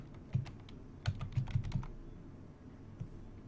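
Quiet, close keystrokes on a computer keyboard tap out a folder name in short irregular bursts, with a cluster of quick presses in the middle and a final lone click, no talk.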